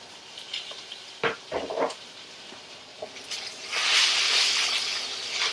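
Mixed vegetables go into a hot pan for shrimp and udon teriyaki. A few clanks and clatters come first, then the sizzle swells into a steady, close hiss as they stir-fry.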